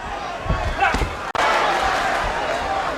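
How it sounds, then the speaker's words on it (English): An arena crowd roars at a boxing match between Miguel Cotto and Yoshihiro Kamegai, a loud, continuous swell of cheering with a brief dropout partway through and a commentator talking over it. "Crowd responding."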